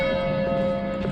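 A church bell rings at night in Warsaw's old town, one sustained, resonant toll with a long humming decay, loud and clear over faint street ambience.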